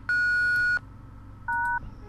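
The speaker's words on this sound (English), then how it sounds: "Please speak after the beep." Voicemail beep in the video game Thimbleweed Park: two short electronic tones, a longer single beep followed by a brief two-pitch beep, clear and alone over faint background hiss.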